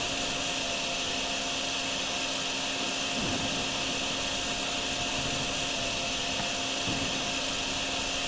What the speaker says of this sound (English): We're going to get the vacuum out.